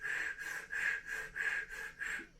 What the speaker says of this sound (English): Kind of shallow breathing